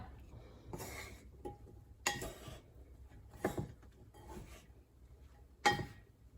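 A utensil scrapes and clinks against a pan while mushrooms and pork are stirred, giving five or six distinct bursts of scraping with short quiet gaps between them.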